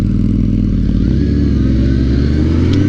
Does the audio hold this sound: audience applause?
no